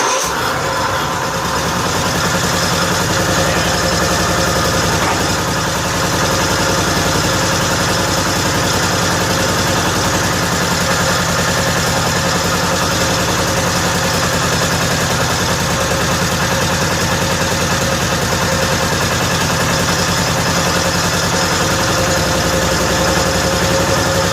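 A 1955 Cushman Truckster engine idling after a cold start, a steady, even small-engine putter that runs smoothly and continuously for the whole stretch, close and fairly loud with no talk.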